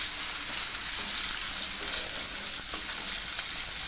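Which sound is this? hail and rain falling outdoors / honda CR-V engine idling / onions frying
onions frying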